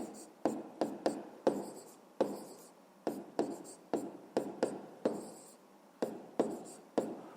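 A pencil writes on paper while working a fifth-grade maths exercise, producing a close, quiet series of short scratchy strokes in an uneven rhythm, about a dozen distinct marks with brief pauses between them.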